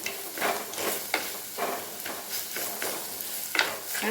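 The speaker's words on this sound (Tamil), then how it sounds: "இப்போ தக்காளி சேர்த்துக்கலாம். நல்லா வதங்கட்டும்." Onions and tomatoes sautéing in a pan for a Tamil prawn curry: a soft continuous sizzle broken by rhythmic scraping stirs, about eight strokes at an even pace, close and moderately quiet with no voices.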